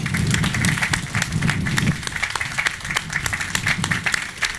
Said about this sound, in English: About a big round of applause for these two youngsters.